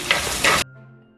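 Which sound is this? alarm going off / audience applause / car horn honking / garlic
garlic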